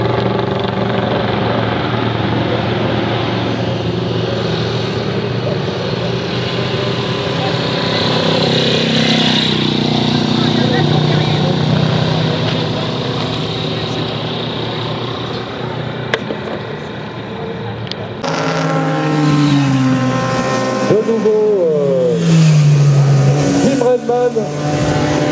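A small 1960s Honda motorcycle runs at a vintage bike event in Switzerland, its engine buzzing steadily under an announcer's voice, then revving and sweeping up and down in pitch as it passes close by.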